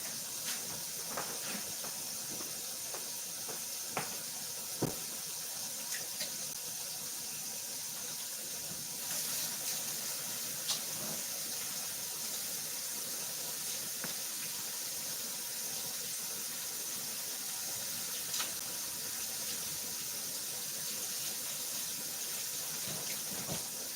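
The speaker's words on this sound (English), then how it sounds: "I'm going to wash my hands again." Tap water runs steadily in a kitchen sink while hands are washed beneath it, a continuous close hiss with a few small clinks and splashes, and nobody speaks.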